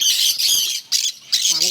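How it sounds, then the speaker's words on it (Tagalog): Several birds in an aviary squawk in harsh, shrill bursts, loud and close, overlapping one another with short gaps between cries. "Iba't ibang klaseng ibon dito."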